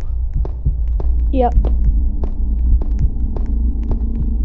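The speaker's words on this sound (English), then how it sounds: "Why is our heartbeat getting stronger? Do you hear it?" Heartbeat sound effect in a horror video game set in an abandoned insane asylum: a steady, regular low thump over a constant hum, with a voice speaking briefly once.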